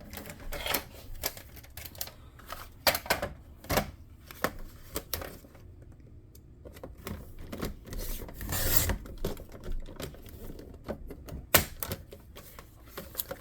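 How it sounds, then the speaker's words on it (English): A cardboard drink stick box has its top and bottom flaps cut off. Faint, irregular snips and rasping scrapes follow one another at close range, with short pauses between bursts. "you're gonna cut the top and the bottom of these flaps off"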